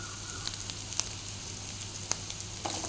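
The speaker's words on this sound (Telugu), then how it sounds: "ఇవి కొంచెం బాగా ఏగాక మెత్తబడి బాగా మంచిగా ఏగేదాకా వేయించాలి." Jackfruit seeds frying in a pan with spice paste, giving a steady soft sizzle with occasional sharp little pops, close and fairly quiet, with no voices.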